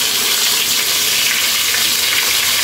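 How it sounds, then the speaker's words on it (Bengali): Surma fish frying in a pan, a loud, dense and continuous hiss of hot oil that holds steady throughout, close by and with no speech over it. "আজকে রান্না করতেছি, এই যে ভাজি করব প্রথমে।"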